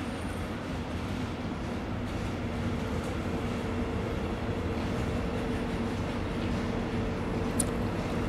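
An Interregio-Express regional train at Stuttgart main station, with a steady low rumble and hum of rolling rail cars that holds at an even level throughout.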